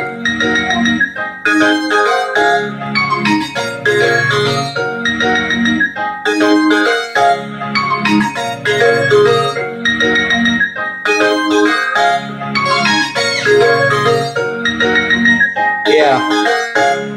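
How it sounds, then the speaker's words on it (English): Hip-hop beat instrumental with the drums removed, playing melodic instrument layers with a brass section added on top, continuous and loud with rhythmic chordal stabs. "So if I add the brass now, it sounds like this."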